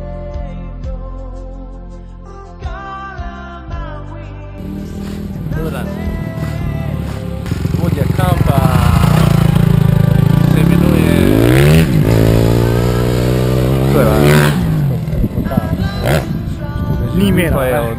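A freestyle motocross motorcycle weighing about 170 kg revs loudly, its engine rising and falling in repeated sweeping pitch climbs that grow stronger partway through, with people talking nearby.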